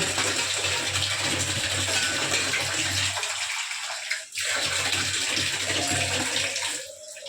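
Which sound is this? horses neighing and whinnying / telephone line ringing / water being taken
water being taken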